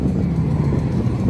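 Engine of a drift car at a Drift Indy event, with the rear wheels spinning and smoking the tyres, a loud, steady, rasping roar held close throughout.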